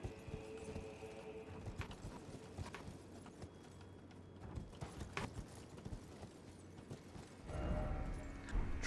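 Hooves clip-clop steadily from a horse ridden in the video game Elden Ring: Shadow of the Erdtree, layered over game ambience with creaks and mechanical clatter, growing heavier and louder near the end.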